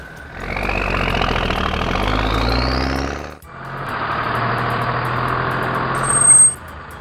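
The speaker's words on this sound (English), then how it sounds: "Garbage truck." A heavy garbage truck engine rumbles loudly with a rising whine, briefly cuts, then resumes idling; a few high beeps sound near the end.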